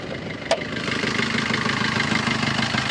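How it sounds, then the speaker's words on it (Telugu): A 2018 Maruti Vitara Brezza VDi diesel engine idles with a steady, even rumble, close and moderately loud, after a brief click near the start, with no one speaking. "ఇంజన్ సౌండ్ వినొచ్చు, మీరు క్లియర్గా వినొచ్చు"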